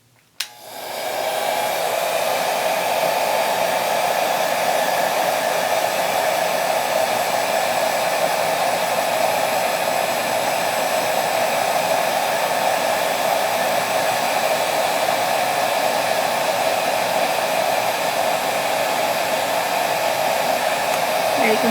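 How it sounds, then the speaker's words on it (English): A heat gun running on its higher heat setting blows over a polymer clay character sculpture, a loud steady close whoosh of rushing air that starts abruptly and holds unbroken throughout, with no talking. "I'm going to take my heat gun, and I have it on the higher heat, and then I'm just going to heat him until his face turns matte"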